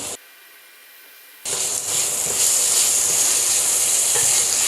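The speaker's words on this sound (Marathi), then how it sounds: "हे टॉमॅटोसुद्धा आपल्याला छान असं परतून घ्यायचं आहे" Chopped tomato sautéing with onions in a pan for a methi dish, a steady broad sizzle that starts after a near-silent second and then carries on loud and close, with faint stirring.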